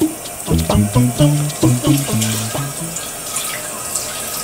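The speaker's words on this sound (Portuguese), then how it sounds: "Olha a torneira aberta, filha. Se não gasta água." An open tap runs into a sink while a child washes her hands, a steady near splash and trickle with hollow bubbling pops and drips in the first few seconds, then settling into an even flow.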